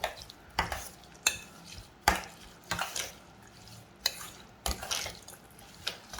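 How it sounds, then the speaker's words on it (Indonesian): Sambal matah ingredients with sugar being stirred in a bowl: a series of separated scraping, clinking strokes roughly every second, close and moderately loud, with no talking. "kita aduk."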